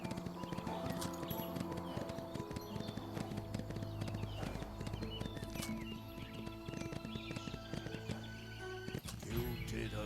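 Horses' hooves clip-clop steadily in a horse-riding video game (Windstorm: Start of a Great Friendship Remastered), set against busy in-game music and ambience, with a few faint bird chirps.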